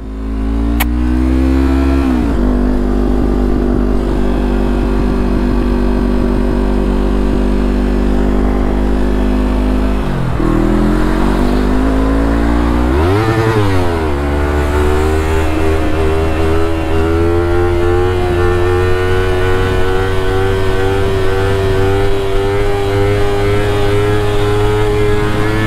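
Loud motorcycle engine held at steady revs in third gear, dipping briefly and climbing again in repeated swells, close and continuous with no talking, during a wheel-sideways drifting ride.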